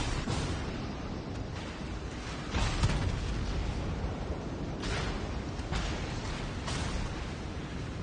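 Warship guns fire in World of Warships Legends naval combat, a few heavy rumbling blasts over a constant low roar of sea and engine noise.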